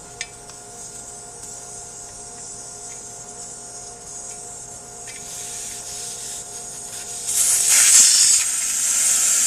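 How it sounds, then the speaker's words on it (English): Air hisses steadily out of an RC car tire's valve stem as it is deflated, a faint continuous hiss that swells louder and brighter near the end. "we'll just let the air bleed out"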